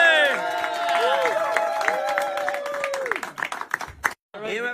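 A film crew claps together at the wrap-up of a shoot, short bursts of applause rising under loud voices and talk, ending in a few sharp separate claps.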